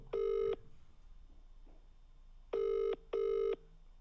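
An outgoing phone call rings: three identical electronic ring tones, close and clear, one alone, then a pause, then two in quick succession, over a faint background hum.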